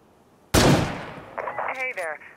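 A single sharp sniper rifle shot rings out in the zombie survival video game State of Decay 2, then decays with a tail before voices speak over the aftermath.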